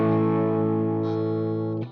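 Electric guitar with a distorted, effects-laden tone sustains a held chord from the interlude riff of a song, ringing loud and close before cutting off abruptly near the end.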